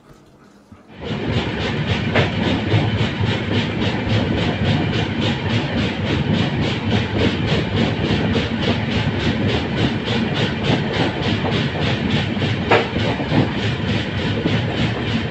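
The Tambaram to New Tinsukia express, train 15929, runs at speed. After a brief quiet start, a loud, continuous roar of wheels and carriages sets in, with a faint rhythmic clatter on the rails and no talking.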